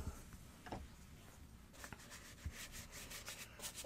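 Brush rubbing white paint into an art journal page, a soft, close scratchy scrubbing with faint dry strokes and light taps, quiet throughout.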